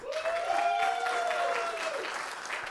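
Audience at a live wrestling podcast taping in Philadelphia breaks into steady applause, a dense wash of clapping with a voice or cheer riding over it, sustained for a few seconds.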